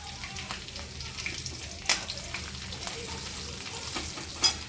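Red chilli powder, coriander powder and turmeric fry in a pan with a soft, steady sizzle and occasional stirring clinks, fairly quiet and close.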